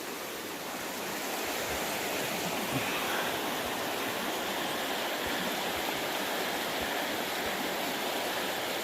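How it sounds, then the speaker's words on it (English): The Kettle River at Banning State Park, Minnesota, runs as a continuous, soft rushing babble, moderately distant and steady throughout with no voices over it. "something about running water. I absolutely love it."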